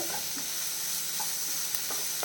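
Egg roast masala with onions sautéing in a pan, a continuous sizzle and fry with scraping stir strokes every moment or so, close and steady.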